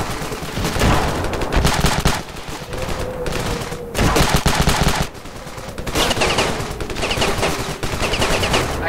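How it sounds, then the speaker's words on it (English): Dense video-game gunfire in Ravenfield, continuous rattling machine-gun bursts and overlapping shots, loud and close, with brief lulls between volleys. "I can hear stuff shooting at me."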